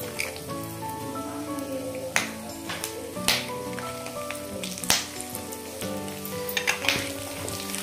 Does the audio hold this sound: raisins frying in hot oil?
yes